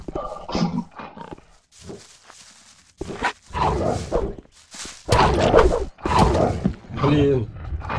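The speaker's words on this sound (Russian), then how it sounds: "Что тут осталось? Одна собака." Dog barks from the video game Gothic come in short bursts, mixed with game sound effects and someone talking over them throughout.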